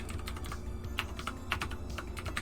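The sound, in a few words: loud typing on a computer keyboard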